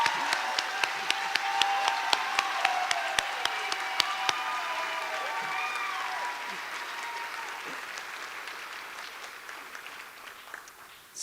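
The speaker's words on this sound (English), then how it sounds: "Please join me in giving these students a round of applause." A round of applause for graduating nursing students at a school of nursing senior recognition ceremony, starting with sharp distinct claps and settling into a sustained, moderately distant wash that gradually thins toward the end.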